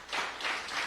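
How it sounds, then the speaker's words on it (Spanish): Brief burst of congregational applause during a church worship service, a few quick waves of clapping from a crowd at moderate volume. "Dale un aplauso, Señor, hermano."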